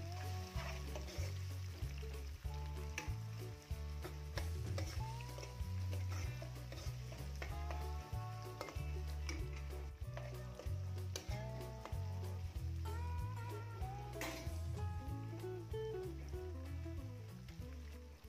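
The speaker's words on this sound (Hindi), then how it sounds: "अब इसको अच्छा सा भून लें, टमाटर को सॉफ्ट होने तक पका लें।" Onion and finely chopped tomatoes fry in a pan, a continuous soft sizzle with repeated stirring scrapes throughout, fairly quiet and steady under background music, with no talk.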